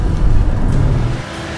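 A 4WD vehicle's engine revs hard while climbing a steep sand dune in the Simpson Desert, a loud, close, sustained rumbling roar that eases slightly toward the end.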